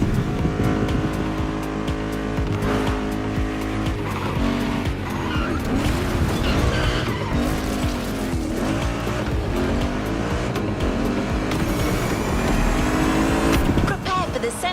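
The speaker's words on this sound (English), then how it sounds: "There's an absolute classic heading your way. A grail among collectors and Jim's greatest pride, the Mustang Boss 429" A Ford Mustang Boss 429 classic American muscle car drives with a loud, continuous engine roar and tire squeal, sustained and close throughout.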